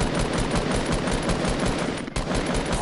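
Dense, sustained automatic gunfire in a multiplayer shooter video game, loud and continuous rapid bursts with a brief dropout near the end.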